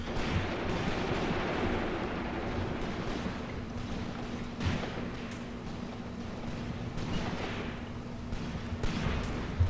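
Dense, continuous gunfire from infantry and heavy weapons rolls across an open field in the WWII tactics game Graviteam Tactics: Mius Front, with sharper individual shots and distant booms poking out of a steady battle rumble.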